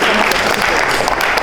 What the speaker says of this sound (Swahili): Hebu mjipigie tu makofi again.